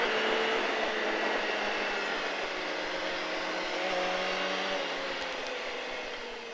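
A car at speed on the Le Vigeant race circuit gives a steady, sustained engine drone, moderately loud and slightly distant, with a constant broadband roar and faint tonal whine and no voices.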